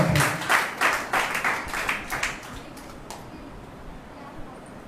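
Church congregation in a Sunday service applauding to welcome the preacher, a burst of rhythmic group clapping, fairly close and loud at first, then tapering off into quiet room tone after a few seconds.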